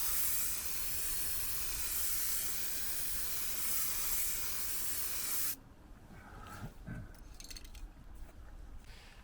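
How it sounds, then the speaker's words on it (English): Clear coat sprays in a steady, loud broadband hiss onto a Jaguar XJ40 body during rust-hole repair, running continuously for about five seconds before cutting off to quieter handling noises. "the second coat of clear coat went on there"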